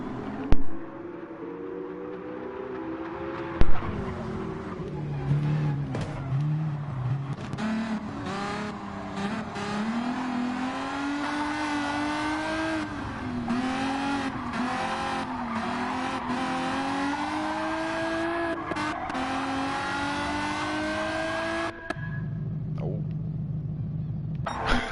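Racing car engines wail through a video game race on twisty track, revving up and down with shifting pitch, occasional tire squeal and sharp knocks, ending in a lower idle.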